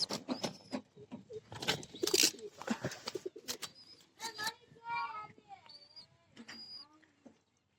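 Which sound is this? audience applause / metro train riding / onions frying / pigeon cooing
pigeon cooing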